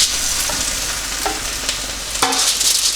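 Hash browns and potatoes finishing in a bacon-greased frying pan for a full English breakfast, a steady close sizzle with occasional stirring scrapes and clinks, no talk.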